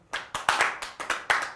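A small group of people clapping to check volume, about eight sharp, close hand claps in quick irregular succession.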